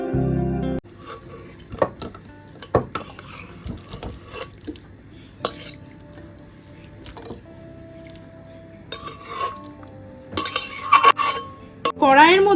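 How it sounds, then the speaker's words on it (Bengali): Cooked duck meat is scraped and tipped from a wok into a pressure cooker, with a sharp clank, then wet squishing, scattered metal scrapes of a spatula and clatters. "এবার মাংসটা ঢেলে দেবো প্রেসার কুকারের মধ্যে"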